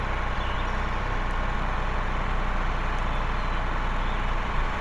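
A logging truck drives in the video game Woodcutter Simulator 2012, a dense, steady engine rumble and drone that fills the whole stretch at constant loudness with no talking.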